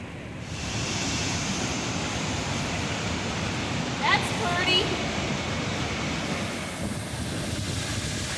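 Creek rapids near West Glacier rushing steadily, a broad continuous roar of flowing water heard up close, with a brief faint whistle-like tone midway.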